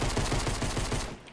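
Rapid, regular shots from a pistol in a Fortnite Battle Royale pistols-only match, firing in a quick steady rhythm at close range and then breaking off near the end, with no talk.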